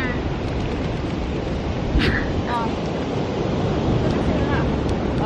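Strong wind buffets the microphone in a steady roar at Venice Beach, California, with surf rumbling underneath and faint voices briefly in the background.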